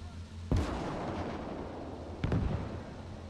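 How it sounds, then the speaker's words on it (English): Mortars firing in the WWII video game Gates of Hell: two heavy, booming launches about two seconds apart, loud and sharp over a steady rumbling battlefield background. "That sounds like our mortars going off."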